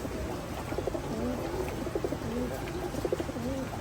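Pigeons coo repeatedly at a pigeon-keeping spot in Shonir Akhra, Dhaka, low rolling calls recurring through a steady background hiss, close and moderately loud, with no talk.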